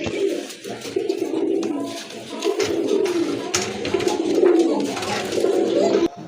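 Pigeons kept for sale, including Gorra and Rajgolla breeds, coo in a continuous, close, throaty murmur lasting the whole stretch, with several birds overlapping and no voices heard.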